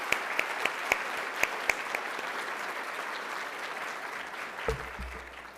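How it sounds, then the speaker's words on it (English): A fundraiser audience breaks into sustained applause, a dense wash of clapping with a few sharp nearby claps standing out before a thump near the end. "Give yourselves a round of applause."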